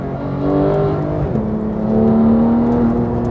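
A Porsche 911 GT3 on Michelin Cup 2 tires accelerates hard around a track, its engine climbing in a loud, steady rising whine through a gear change, heard close from inside the car.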